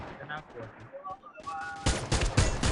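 Close, loud gunfire in the mobile shooter Free Fire, a dense run of rapid automatic shots in the second half after quieter in-game sounds and a voice talking.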